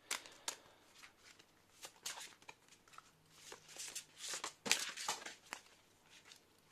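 Tarot cards being shuffled and drawn for a reading, giving a run of soft papery riffles, slides and crisp flicks at close range, uneven in rhythm with brief pauses between bursts.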